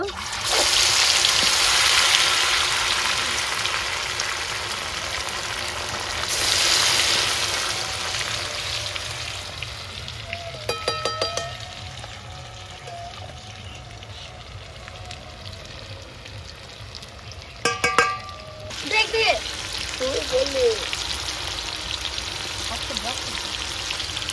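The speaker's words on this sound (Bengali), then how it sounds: "তেলটা আমার গরম হয়ে গেছে, এর ম্যারিনেট করা মাংসগুলো আমি তেলে দিয়ে দেব।" Marinated chicken pieces go into hot oil in a kadai and fry with a loud, steady sizzle that later eases to a softer crackle, broken by a few brief clatters and some nearby talk.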